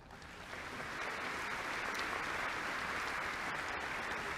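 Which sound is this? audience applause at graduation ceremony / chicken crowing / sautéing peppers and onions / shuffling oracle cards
audience applause at graduation ceremony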